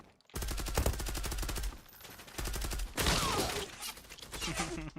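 Rapid automatic gunfire in a first-person shooter video game, several loud sustained bursts of machine-gun fire with short pauses between them, close and dominant, with no talking.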